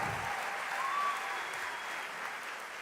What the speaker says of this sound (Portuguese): Pode aplaudir ao Senhor por tudo isso que Deus está fazendo